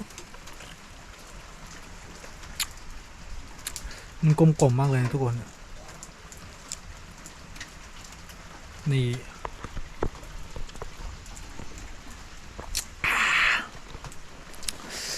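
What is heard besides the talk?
rain falling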